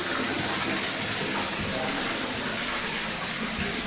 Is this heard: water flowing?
yes